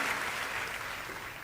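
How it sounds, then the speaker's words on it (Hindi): An audience applauds to welcome the poet Sampat Saral at a poetry event, giving steady, dense clapping at a moderate level with no speech. "आप दोनों हाथ उठाकर जोरदार तालियों के साथ संपत जी का स्वागत करें।"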